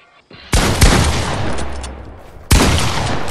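Loud bursts of video game gunfire, a sustained volley of rapid shots followed by a brief gap and then another heavy burst, harsh and close.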